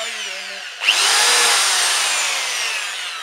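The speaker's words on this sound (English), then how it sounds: "And what I'll do is I countersink those holes." A power drill countersinks screw holes in a wooden footboard, with a sharp loud spin-up followed by a steady high whine that slowly fades over a few seconds.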